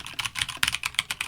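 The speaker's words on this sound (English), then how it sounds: "Now the Keychron K2 version 2." Typing on a Keychron K2 version 2 mechanical keyboard, a close, steady patter of distinct key clicks coming in a quick, even rhythm.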